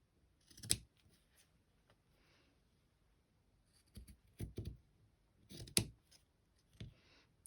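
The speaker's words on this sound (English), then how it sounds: "Maybe I will cut this inside one" Scissors cut through fabric for a lined envelope in a few separate bursts of snipping, each a short crisp crunch of blades, close and fairly quiet with near silence between cuts.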